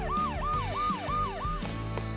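A toy ambulance siren wails in five rapid, repeating rising-and-falling sweeps, loud and close, as part of a miniature Barbie doll play scene, stopping abruptly near the end with no talking.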